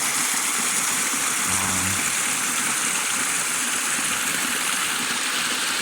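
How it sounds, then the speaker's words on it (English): A creek in front of a rural house, scoured out by recent winter flooding, rushes and gurgles in a steady, continuous wash of water, with a faint low hum briefly beneath it. "this creek runs along in front of my mom's house,"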